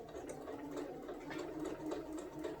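A sewing machine runs continuously at a steady pace, stitching fabric for a quilted placemat, its close, even whir and clatter heard up close with no talking.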